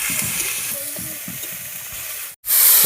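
Ground onion spice paste (masala) frying in a pan, a loud, steady close-up sizzle and hiss with bubbling spatter, briefly cutting out near the end before the sizzle returns.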